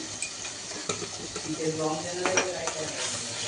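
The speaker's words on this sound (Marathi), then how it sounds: "तर आपण हा मसाला छान त्याची शिजून घेऊया" Masala sizzling and frying in a pan while being stirred, a steady close hiss with scraping spoon clicks and light metallic pan knocks, a voice faintly present beneath.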